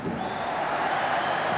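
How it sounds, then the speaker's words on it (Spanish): A stadium crowd at a 1981 Spain versus Switzerland friendly football match applauds from the stand opposite, a broad, distant wash of clapping and crowd noise, steady and unbroken. "El público de la banda opuesta a la posición que ocupamos le ha propinado otra vez una salva de aplausos"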